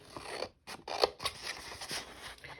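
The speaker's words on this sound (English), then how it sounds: "I'm going to go ahead and cut it out." Scissors snip repeatedly through folded paper while a flower shape is cut out, a close, crisp series of short cutting strokes with brief pauses between them, and no voices.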